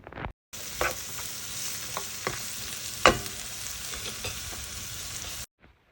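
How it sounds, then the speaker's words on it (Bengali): Carrots and cabbage hit a pan with garlic and onion and fry with a soft, steady sizzle, broken by a few sharp stirring clicks, starting and stopping abruptly. "পেঁয়াজ দেওয়ার সাথে সাথে খানে কারোট আর খেবিজ যেগুলো আগে সিদ্ধ হতে একটু সময় লাগে কারোট আর খেবিজগুলো দিয়ে দিলাম"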